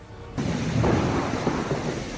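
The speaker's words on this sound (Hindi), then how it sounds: "बिजली की गड़गड़ाहट के साथ हुई तेज बारिश की वजह से और तेज हवाओं के चलने से पेड़ और खंभे धराशायी हो गए" Heavy rain pours down in a violent storm with strong winds, a deep thunder rumble breaking in suddenly and rolling on beneath the dense, loud downpour; no talking.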